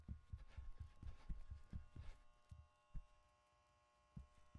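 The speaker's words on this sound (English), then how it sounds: "there's no stamina bar, but there's heartbeats" Heartbeat effect in the Roblox horror game Apeirophobia, a soft, muffled throbbing pulse beating fast at first, then slowing to scattered beats over a faint electrical hum, quiet and with no talking.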